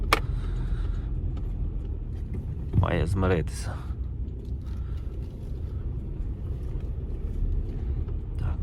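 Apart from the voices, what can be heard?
car driving on rough field road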